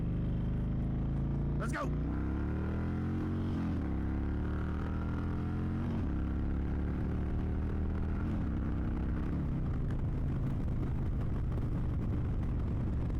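An Indian Chieftain motorcycle pulls away in first gear, its engine note rising and falling through the revs in repeated swells, with a rider talking over the rumble.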